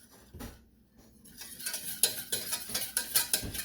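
A spoon stirs a salted, cardamom-spiced butternut squash mixture in a pan, quiet at first, then rhythmic scraping and clinking strokes against the metal with a faint sizzle, close and without speech.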